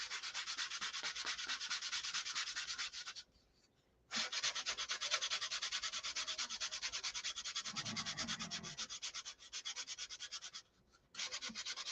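Steady, rhythmic rasping of sandpaper rubbed back and forth over a surface, loud and close, continuing for long stretches with two brief pauses and no talk.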